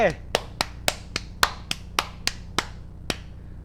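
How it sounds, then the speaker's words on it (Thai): Slow, irregular hand claps, about a dozen sharp, fairly close slaps spread across a few seconds, ringing out under a steady low background hum during a Thai-language commentary on the Ultraman Fighting Evolution 3 game. "พร้อมปรบมือเย้"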